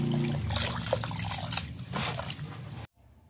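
Ration rice being washed by hand in water for dosa batter, with steady wet sloshing, dripping and squishing close by, continuing for most of the clip before stopping abruptly near the end.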